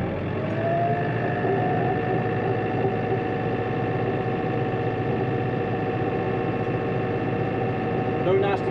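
A tractor engine runs at a constant 1969 RPM driving the PTO at 540 RPM, a continuous droning hum and harmonic whine, close by and unchanging throughout.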